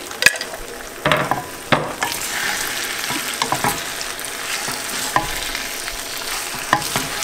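Lardons and bacon fry in a pan with a steady crackling sizzle, punctuated by occasional sharp clicks and utensil taps.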